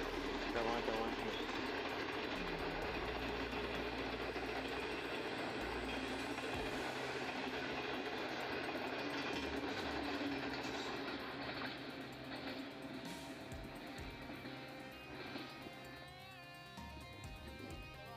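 A Pakistan Express passenger train rolls into a platform at a Karachi-area station, its steady loud rumble and wagon clatter filling the scene before easing off near the end, with talking underneath.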